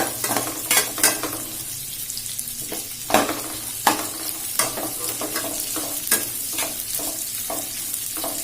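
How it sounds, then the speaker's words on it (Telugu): Carrot pieces fry in ghee with a steady sizzle as a utensil stirs them, giving repeated scraping clicks and knocks against the pan at an uneven pace, with no talking. "క్యారెట్ కాస్త నెయ్యిలో కాస్త వేయించాలి"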